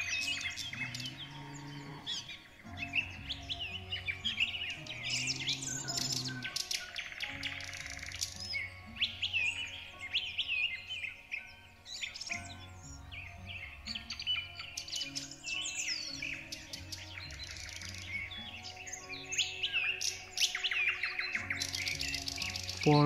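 Birds sing and chirp in dense, overlapping calls over a steady outdoor background, with occasional lower mooing-like tones from cattle mixed in, moderately faint throughout.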